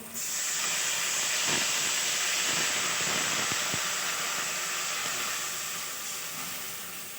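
Water poured into a hot pan of fried mangoes, bursting into a loud, steady hiss of steam with crackling pops that fades slowly over several seconds.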